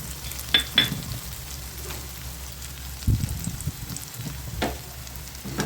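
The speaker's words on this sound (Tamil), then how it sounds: "நல்லா வதக்கி விடுங்க." Tomato masala with turmeric and chili powder sautés in a pan for a dried fish thokku, giving a steady soft sizzle with a few sharper stirring scrapes near the start and middle, close and fairly quiet, with no talking.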